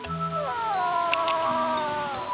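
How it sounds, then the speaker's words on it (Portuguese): A sleeping duckling snores with a drawn-out, high, meow-like cry that wavers and slides downward, close and fairly loud, with a few soft clicks near the end. "Esse outro patinho está dormindo. Agora, preste atenção e ouça como ele ronca."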